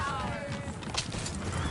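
Horses clip-clop in a video game scene, their hooves a busy, steady patter under overlapping speech and whinnying, with music and game noise filling the background.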